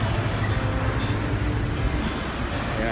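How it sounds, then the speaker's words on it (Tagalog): Road traffic on a busy Manila city boulevard heading toward Cavite: a dense, continuous rumble of cars, buses and trucks passing nearby, with faint airy brake hisses rising at intervals. "Tingnan natin ang flow ng traffic."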